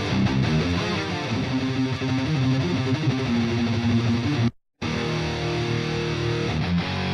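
Heavily distorted electric guitar played through an amp simulator on its full distortion setting, with dense sustained chords in stereo, cutting out briefly to silence before resuming.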